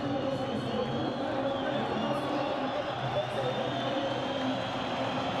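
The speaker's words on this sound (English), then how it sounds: "the applause is doing him justice at the minute" A stadium crowd at an Egypt versus Portugal football match applauds as a player is substituted off. The applause is a steady, dense roar of clapping and voices that stays constant throughout.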